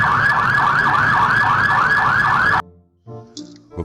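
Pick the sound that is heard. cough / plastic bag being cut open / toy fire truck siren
toy fire truck siren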